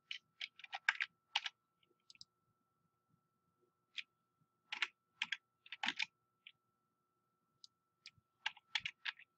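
Fingers type on a computer keyboard while drafting in AutoCAD, producing quiet, close bursts of rapid key clicks separated by short pauses.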